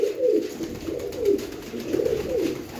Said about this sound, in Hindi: इन्हां कबूतरां दे बच्चे होने ने